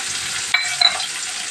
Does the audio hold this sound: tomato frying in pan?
yes